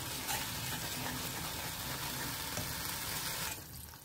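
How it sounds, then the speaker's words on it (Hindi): Spice masala fries in oil in a pan for stuffed dum aloo, giving a steady dense sizzle throughout that drops off sharply near the end. "और हम अच्छे से मसाले को भून लेंगे जब तक कि तेल नहीं छूट जाता"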